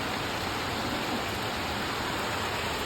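Heavy rain pours onto a rooftop with a dense, unbroken hiss of spray and drumming, loud and even throughout, with no voices.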